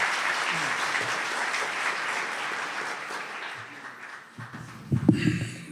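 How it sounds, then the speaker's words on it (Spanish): Applause from the audience at a public-services and state-liability panel in Pasto, a dense steady clapping that fades toward the end as a few louder knocks and handling sounds come through. "con el aplauso de los asistentes."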